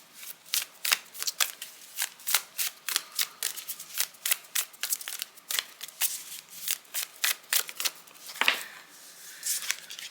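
Tarot cards being shuffled for a card reading make a run of crisp, rhythmic riffling snaps, evenly spaced and close. The shuffling continues for the whole stretch with a slightly louder flurry near the end.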